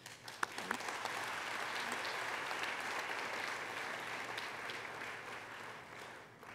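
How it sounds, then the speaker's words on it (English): Steady, fairly distant applause from a convocation audience honoring graduating students, a dense sustained wash of clapping with no voices over it. "We applaud these students."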